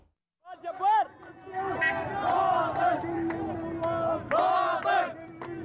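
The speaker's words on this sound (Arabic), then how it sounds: "بل حولوا تظاهراتهم إلى مسيرة رددوا خلالها هتافات ضد زعماء الميليشيات والأحزاب الموالية لإيران" Protesters marching in Basra, Iraq chant slogans against militia leaders and pro-Iran parties: a loud crowd of voices shouting in rhythmic unison, with surges of cries and background babble, close and dense after a brief quiet start.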